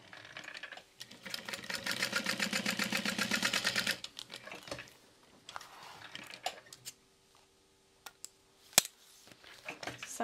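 A sewing machine bastes across the top of a Nooga convertible hip bag with a fast, even run of stitching for a few seconds. Fabric handling rustles and clicks follow, with one sharp knock near the end.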